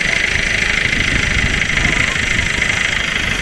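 A freshly overhauled owner-type jeep engine idles close by with a steady, even throb and faint mechanical ticking, running alone without talk.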